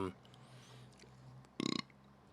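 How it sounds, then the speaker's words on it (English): One loud, close, rattling burp bursts out briefly amid a quiet room during a casual chat, with a voice heard just before it. "first burp down"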